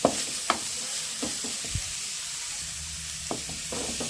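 Curry leaves and coriander fry in a pan over a wood-fired stove, giving a steady close sizzle broken by a few sharp scraping stirs.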